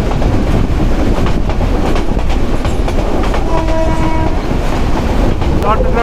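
The Meghna Express intercity train runs at speed, a loud continuous rumble with rapid clickety-clack and a brief horn-like tone partway through, close up.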